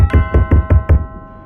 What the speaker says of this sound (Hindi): जोर जोर से किसी के दरवाजे को खटखटाने की आवाज